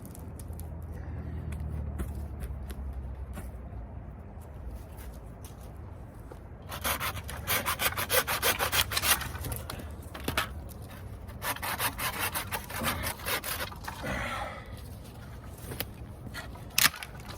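A hand saw makes short, rhythmic strokes through hardwood sticks, rasping back and forth steadily at close range after a quiet stretch of rustling.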